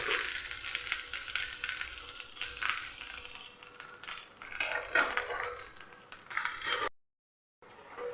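Tomato rava dosa cooking on a hot pan, a steady bright sizzle with light scraping and clinks from a spatula, close and continuous, then a brief drop to silence near the end.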